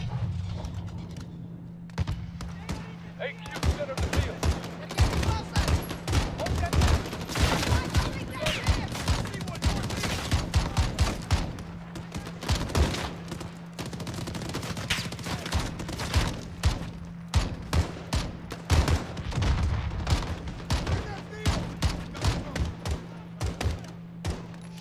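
Steady crackle of distant gunfire in a Modern Warfare 2019 campaign battle, many sharp shots coming in irregular bursts over a low constant hum, with faint voices in the background.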